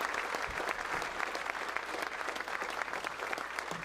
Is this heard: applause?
yes